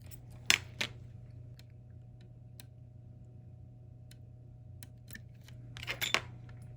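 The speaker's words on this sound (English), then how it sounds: "Put the screws in now." Faint, close metallic ticks and small clicks come from tiny screws being driven into an IWC Schaffhausen watch movement during repair, with a few sharper clicks near the start and end over a low steady hum.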